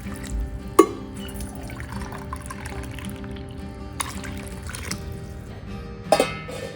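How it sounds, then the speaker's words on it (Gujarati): Hot water being poured over cowpeas in a bowl for soaking, a steady liquid pour with a few sharp knocks and clinks of the vessel. "2 કપ ગરમ પાણી નાખી અને 15 થી 20 મિનિટ માટે પલાળી દઈએ."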